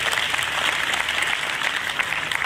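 Audience at a government ceremony handing out appointment letters applauds in welcome, a steady, fairly loud wash of many hands clapping with no pauses.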